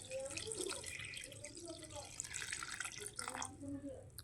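Water is poured from a small vessel into a pot of drumstick leaves and ground shallots for boiling, a soft faint splashing trickle with a voice speaking over it.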